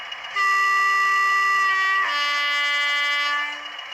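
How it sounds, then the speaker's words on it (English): A Bachmann Class 20 model locomotive sounds its front horn, a loud steady two-tone blast that shifts pitch midway and holds for about three seconds before cutting off, close and clear with no talk. "which is apparently the front horn"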